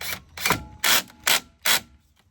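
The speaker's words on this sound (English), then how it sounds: "And the little screw to hold it in place." Small screw being fitted to hold a brake disc in place, heard as several short, sharp metallic clicks spaced at an even rhythm, close and fairly quiet.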